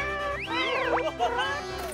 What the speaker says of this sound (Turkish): Kedi aşağı inemiyor.